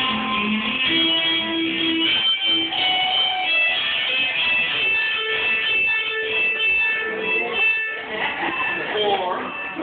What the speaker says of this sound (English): with this little pedal board down here, I can change my sound so that it goes like this.